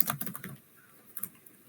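Rapid clicking keystrokes on a computer keyboard, a quick burst of taps followed by a pause and then a few more scattered presses, close and clear with no voices.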